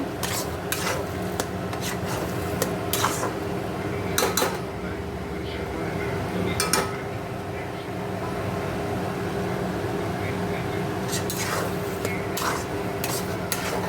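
A spatula scrapes and rubs steadily through a soya filling in a pan, with sharp clacks against the metal at irregular intervals, the sautéing close and continuous over a low background hum.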